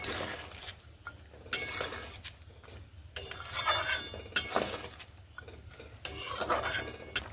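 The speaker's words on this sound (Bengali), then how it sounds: "নুন মিশিয়ে এইভাবে নেড়ে নিচ্ছি" Pumpkin curry stirred in a pot after salt goes in, with bursts of scraping and metal clinks from the spoon against the pan over a low bubbling simmer, close and fairly faint.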